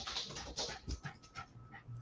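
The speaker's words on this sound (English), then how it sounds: "We can hear her like she's right up against your face, panting into the microphone." A dog pants right up against the microphone, quick rhythmic breaths, close and fairly loud, with no talking.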